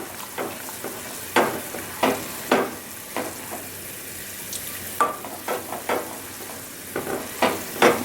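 A spoon scrapes around a pan of dark caramel sauce as it thickens and reduces, giving repeated close strokes at an uneven, steady pace over a faint background bubble, with no talking.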